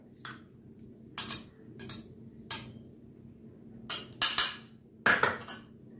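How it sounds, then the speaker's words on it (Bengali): A spoon clinks and scrapes against a bowl as fish roe is mixed with chopped onion and green chili, about eight short, sharp metallic taps in uneven clusters over a quiet background. "এই মাছের ডিমটার মধ্যে এবার আমি মেশাবো হচ্ছে পেঁয়াজ কুচি আর লঙ্কা কুচি"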